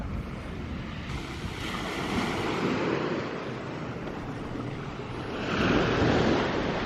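Sea waves wash against the Kent coast, rising and falling in two soft surges, with steady wind buffeting a microphone over the surf.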